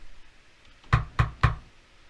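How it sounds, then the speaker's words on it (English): Three sharp knocks on a door, evenly spaced and close, each a quick thud against a quiet background. "when a knock sounded at the door"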